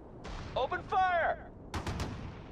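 Gunfire bursts from the Sudden Strike 4 World War II strategy game, a few sharp shots near the end following game voice lines and radio-like chatter.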